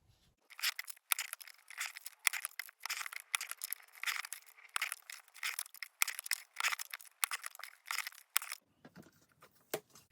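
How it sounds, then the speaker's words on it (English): Scissors cutting through sheets of card, a quick run of close crisp snips and slicing strokes in uneven bursts, then a brief pause before a softer rustle at the end. "So now I'll cut the rest of the card."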